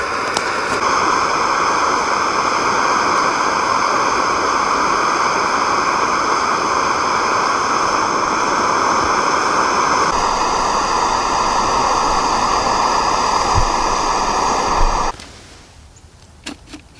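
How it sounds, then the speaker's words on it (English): A Fire Maple FMS-X3 portable 2200 W camping gas stove roars steadily while heating water, a loud continuous hiss and whine close by that holds for about fifteen seconds and then abruptly cuts out. "Okay, so I boiled water."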